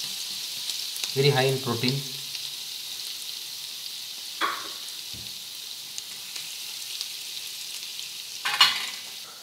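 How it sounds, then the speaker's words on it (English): Paneer scramble frying in a pan and being stirred, a steady soft sizzle with a few scraping stirs and clatters, while a person talks briefly over it. "Making some paneer scramble"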